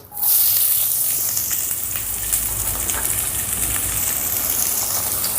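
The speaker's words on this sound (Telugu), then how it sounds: "ఇప్పుడు ఒక రెండు నిమిషాల పాటు ఉల్లిపాయలు మెత్తబడేంత వరకు వేపుకుందాం" Finely sliced large onion with curry leaves frying in hot oil in a pan, a steady close hiss and sizzle that rises sharply at the start and carries on evenly throughout, with no talking.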